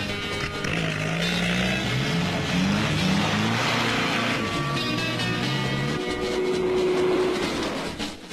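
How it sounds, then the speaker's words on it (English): A 1964 RAC Rally car on a special speed section over enclosed land, its engine roaring loud and close with rising and shifting revs, layered under rough gravelly road noise throughout. "And all the time the driver must urge that extra ounce of speed from his roaring engine."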